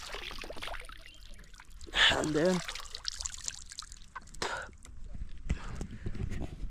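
Water trickling and pouring at a dam while someone washes their legs and face, splashy bursts coming and going close by, with someone talking over the running water.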